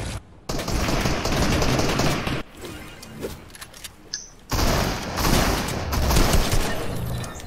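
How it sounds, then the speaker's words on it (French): Heavy video game gunfire aimed at the player, dense bursts of rapid automatic shots in loud volleys separated by a brief quieter stretch, then resuming at full intensity. "Quelqu'un qui me tire dessus, t'étais là."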